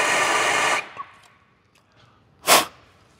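A torch flame roars loudly while heating a seized, frozen bolt during a Cobra Mustang rebuild. The hiss cuts off after under a second, a short quiet follows, then one more brief burst of flame.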